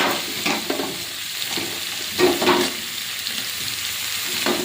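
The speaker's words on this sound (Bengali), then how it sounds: "দিয়ে পেঁয়াজ চিংড়িটা আর একটু ভালো করে ভেজে নেব।" Chopped onion and prawns fry in hot oil for a kochu chingri curry, a steady crackling sizzle broken by a few scraping stirs of the spatula, close up with no voices.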